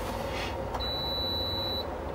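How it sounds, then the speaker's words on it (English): A camper van inverter gives a steady high-pitched electronic beep on power-up, sounding continuously for about a second, clear over a low background hum. "so the beeping sound is power"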